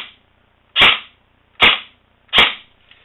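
An upgraded Classic Army MP5 SD6 airsoft gun with a good shim job and motor, fired indoors in a house: three sharp, loud shots spaced about three-quarters of a second apart, with near silence between.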